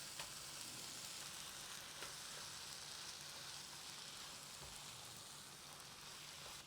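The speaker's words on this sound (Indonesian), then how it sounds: "Kita aduk, kita tumis seperti ini, apinya kecilkan kurang lebih sekitar 10 menit" Chopped eggplant sautéing in a wok, a dense, even sizzle crackling throughout with occasional soft clicks of stirring, moderately quiet and without any voices.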